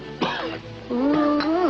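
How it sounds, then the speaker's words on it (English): A harsh, throaty cough close to the mic, followed by a drawn-out voiced rasp, heard alone without speech. "That cough of yours stays with you like poor relation."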